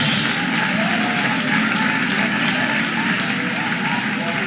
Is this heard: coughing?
no